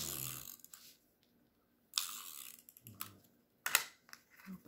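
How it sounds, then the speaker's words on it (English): A tape runner rolls adhesive onto a card base in short ratcheting, clicking bursts separated by near-silent gaps, close and quiet. "Grab a tape runner and I'll tape this to the card base."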